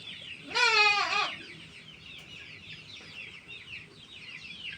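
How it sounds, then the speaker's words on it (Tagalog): A 45-day-old chicken gives a loud, close, drawn-out clucking call lasting under a second, followed by quieter ongoing bird chatter in the background on a small farm. "Ito, aking 45 days na manok."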